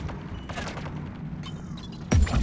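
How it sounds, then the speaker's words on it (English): A sudden, loud biotic explosion bursts out near the end of a Mass Effect 3 multiplayer match, cutting through steady background combat noise. "Jacob goes up in a biotic explosion."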